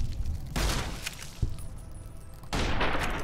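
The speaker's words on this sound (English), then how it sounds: "I can just shoot them through the bars." Gunfire in Fallout: New Vegas as shots are fired through bars at mantises, heard as loud sustained bursts of shooting with a sharp crack in between, fairly close and dense.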